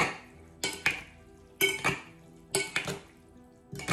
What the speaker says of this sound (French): Je vais mélanger avec délicatesse.